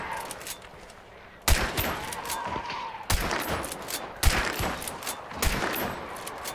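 Gunfire in the video game Hunt: Showdown: several loud bursts of shots at irregular intervals, each sharp crack followed by a ringing tail, with low ambient game noise between them.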